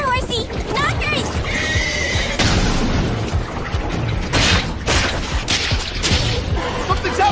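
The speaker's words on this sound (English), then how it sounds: "Was that a girl on horseback? Look there, horsey!" An anime horse neighs in a loud whinny, heard alongside hoofbeats, booming blasts and crashing battle effects, with voices talking over the dense action soundtrack.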